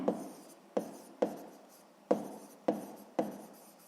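A pen scratches across paper in six separate strokes, each a sharp onset fading quickly, close and fairly quiet, while numbers are written down for a sixth-grade maths exercise.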